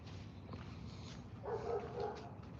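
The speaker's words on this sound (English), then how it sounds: "Oh, I hear the dogs." Dogs bark behind a house door during a morning food delivery, muffled and fairly distant, with a short cluster of barks in the middle over low background noise.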